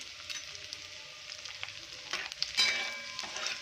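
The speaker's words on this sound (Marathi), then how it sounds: "आलं लसूण आपण ॲड केलेलं आहे हे पनीर छान असं मिनिटभर छान लाल होऊ देऊया" Paneer frying with ginger and garlic in a pan makes a steady close sizzle, with occasional stirring scrapes and a louder burst near the end.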